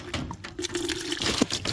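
Water splashing and pouring steadily, close by, with a sloshing, liquid rush filling a chicken's bucket.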